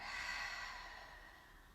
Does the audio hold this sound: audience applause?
no